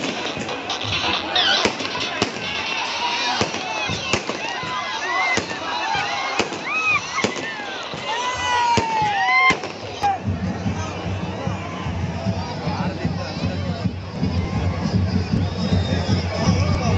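Firecrackers bursting during a Ganesha procession, sharp cracks and pops scattered over a dense crowd roar with whistles and cheering, the crowd din growing heavier and louder toward the end.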